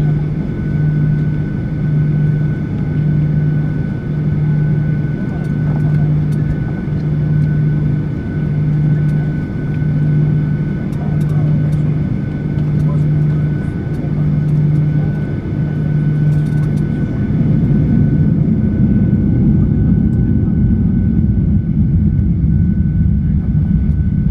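Steady roar of a Caribbean Airlines Boeing 737-800 jet airliner on takeoff from Fort Lauderdale, heard from inside the cabin; a droning hum pulses evenly, then the broadband rush swells louder toward the end.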